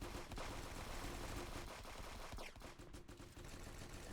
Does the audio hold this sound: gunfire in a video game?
yes